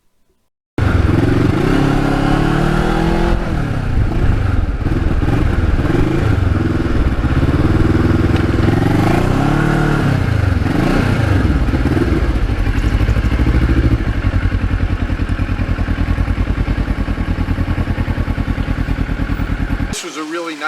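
A fun sport bike, a Ninja, rides along a country road with a loud, steady engine drone and shifting revs. There are gear-change swells and wind rumble, continuous close to the rider's microphone.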